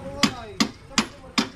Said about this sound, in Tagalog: Ay wala lang martilyo eh.